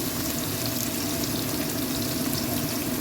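Garlic, onion and capsicum frying in hot oil for chilli chicken, giving a steady, even sizzle that runs without a break at moderate volume with no voices.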